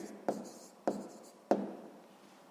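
Writing down an answer for a sixth-grade math exercise produces three distinct, evenly spaced taps and short scratches of a pen on paper, close and fairly quiet.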